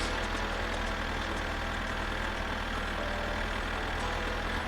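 A tractor engine in the video game My Summer Car idles steadily and loudly without a break, a low rumbling motor hum with no other sounds over it.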